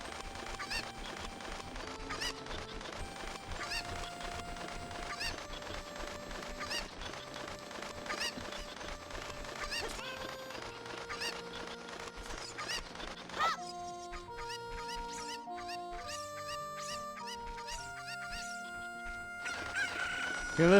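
Cucco chickens in Zelda Ocarina of Time: a long stretch of game music with sustained melodic tones, with bird-like clucking and honking calls mixed in at a steady, moderate level.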